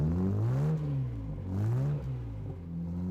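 Throaty V10 supercar engine revving repeatedly, rising and falling in pitch in several strong surges, loud and close with no talking.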